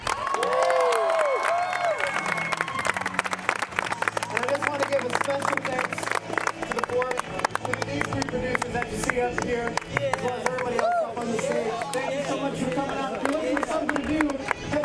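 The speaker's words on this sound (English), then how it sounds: "Let's give a round of applause for Tech." An audience at a live comedy show called Pembroke Night Live claps and cheers at the close of the night, dense continuous applause with shouts, while a voice speaks over it.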